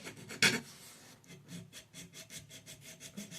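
Plywood parts rubbed by hand with sandpaper, close rasping strokes in a quick, regular back-and-forth rhythm after a louder knock at the start, with no voices.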